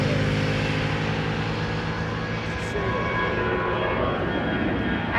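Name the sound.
easyJet airliner at Amsterdam Schiphol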